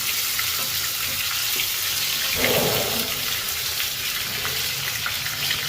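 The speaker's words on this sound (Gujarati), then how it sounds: "રીંગણા નાખી દઈએ છીએ ખોરા છે હલાવી નાખવાનું" Stuffed brinjals frying in a pan while being stirred, a steady close sizzle with a louder burst of spatter midway through.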